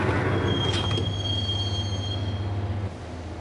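A train from the game Max Payne rumbles along its rails with a steady low drone and a thin, high wheel squeal. The sound is close and continuous, dropping slightly at the end.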